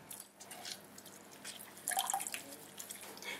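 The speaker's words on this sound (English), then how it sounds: "I'm just going to squeeze the juice in" Juice from an orange squeezed into a pan of water while making lemon meringue pie filling, giving faint close drips and small trickling splashes with a brief louder burst partway through.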